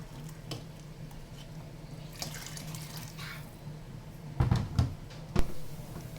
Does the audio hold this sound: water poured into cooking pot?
yes